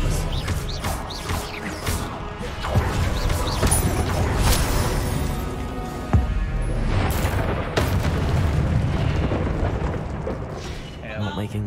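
A spell cast in the video game Hogwarts Legacy, a Disarming Charm heard as a loud booming magical blast amid dense, continuous game effects and music, with sharp impacts near six and eight seconds.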